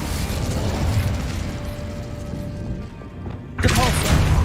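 An Incendio fire spell cast in the video game Hogwarts Legacy, a dense rumbling rush that builds and then bursts into a loud, bright flare near the end.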